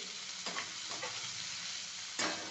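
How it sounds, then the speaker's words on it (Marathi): Capsicum with asafoetida being stirred and sautéed in oil, a quiet steady sizzle broken by a few sharp spoon scrapes against the pan, no voices. "ती शिमला मिरची टाकते. तेलात चांगली मिक्स करते."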